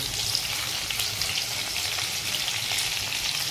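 Crushed garlic and dry chillies fry in hot oil with a constant, close, crackling sizzle that stays even throughout, with no voices.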